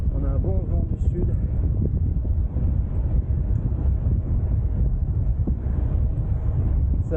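A south headwind buffets a cyclist's microphone on a cold New Year's ride, producing a loud, continuous low rumbling roar with gusty surges, with brief faint voice fragments early on.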